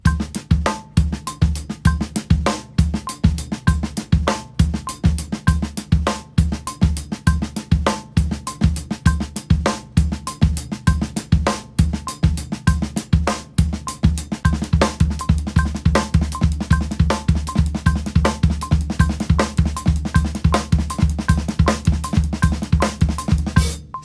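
A drum kit groove played steadily for about twenty-four seconds, with a single-stroke roll and ghost notes filling the spaces between dense, even hits and a bright, cowbell-like ring on top. No voices.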